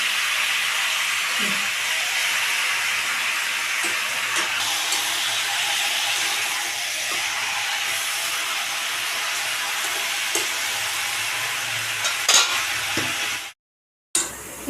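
Chicken pieces frying with onions in a pan give off a steady, close hiss of sizzling oil that runs for several seconds before cutting out near the end.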